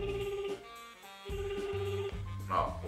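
A phone call ringing out unanswered, with repeated electronic ringback tones and a held melodic tone sounding in steady bursts, loud and close, with brief pauses between them.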